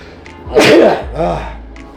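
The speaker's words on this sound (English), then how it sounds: "I'm gonna sneeze." A single loud sneeze bursts out up close, followed by a short voiced exhale.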